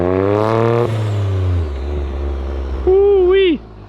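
Toyota GR Corolla fitted with a Lamspeed downpipe, strapped on a dyno, its engine droning under loud voices before a sharp rev rises and falls near the end.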